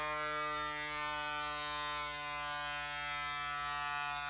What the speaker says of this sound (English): So slide it on and push the button on the top until it's inflated to the desired pressure.